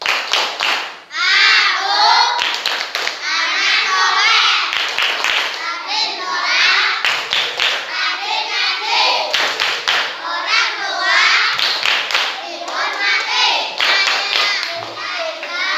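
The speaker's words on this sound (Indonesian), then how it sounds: "Wah, tepuk anak soleh." Children in an Indonesian school lesson chant the rhythmic 'tepuk anak soleh' clapping routine, loud voices alternating with sharp group hand claps in a quick repeating pattern.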